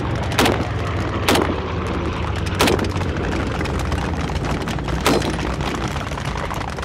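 Rifle firing .30-06 rounds in a shooting video game, four evenly spaced sharp reports about two seconds apart over a steady rumbling background of distant battle noise.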